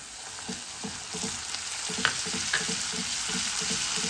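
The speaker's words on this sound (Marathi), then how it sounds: "जरा दही हे फेटलेलं आहे असं आणि कांद्यामध्ये घालून घेणार आहे" Whisked curd is stirred into softened onions in a frying pan for chilli bharit, a soft steady sizzle with rhythmic scraping strokes of a spatula and a couple of light clinks.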